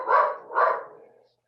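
A dog barks twice in quick succession at a mail carrier arriving at a house, the two sharp barks fairly close and moderately loud, with no talking alongside.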